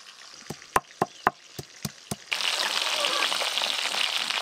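Fish being fried lightly in oil for fish curry: a series of sharp, evenly spaced taps or pops, then a sudden loud, steady sizzle that continues to the end, close by with no talking.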